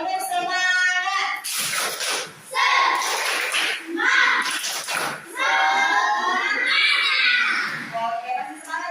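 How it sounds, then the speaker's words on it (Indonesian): Schoolchildren in a class do a rhythmic spirit clap, bursts of clapping mixed with lively chanting voices that come in short phrases with brief pauses. "Ya, tepuk semangat."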